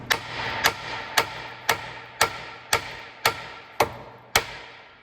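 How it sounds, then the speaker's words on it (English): Nine sharp metallic hammer strikes on a suspension part of a 2014 Kia Sorento 3.3L, loosening a shock, at an even, steady rhythm, each ringing briefly before the next, close and fairly loud with no talking. "I'm just gonna hammer on this."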